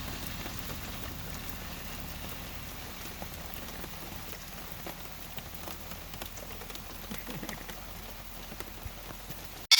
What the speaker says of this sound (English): After about 30 minutes of rain, the rain was starting to let up